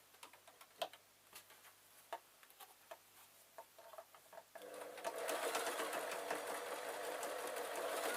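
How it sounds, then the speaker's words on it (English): A sewing machine stitching down a folded cushion cover panel: a few slow single clicks of the needle first, then a continuous close, steady whirring run of stitching. "I'm going to sew down"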